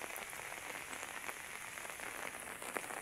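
Steady, moderate rain from Typhoon Enteng falls continuously, a dense, even hiss of drops hitting surfaces, with no voices.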